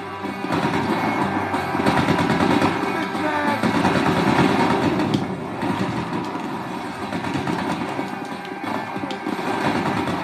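Gunfire in the video game GTA 5 during a sniper attack, dense and continuous, mixed with engine rumble and game noise throughout, with no clear gaps.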